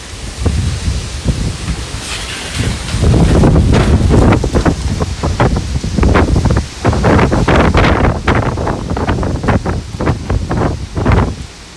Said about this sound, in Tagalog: Grabe, ang lakas ng hangin ngayon,